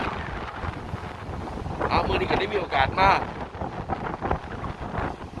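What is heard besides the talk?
cool sea wind at a beach in Japan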